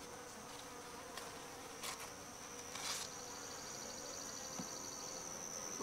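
Honeybees hum faintly around a small green nuc hive outdoors, a soft continuous buzz with occasional individual bees passing close to the microphone.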